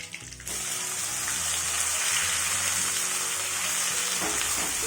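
Onion goes into a pan of hot oil with cumin and fennel seeds, and after a brief softer opening a dense, continuous sizzle takes over and stays strong.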